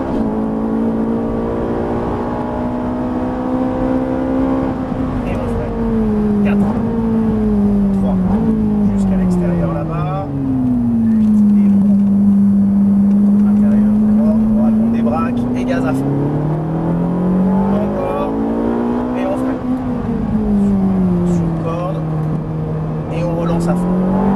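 A Ferrari 458 accelerates around the Haut Saintonge race circuit, its engine note climbing and dipping through repeated revs and gear changes, loud and close from inside the car for the whole stretch.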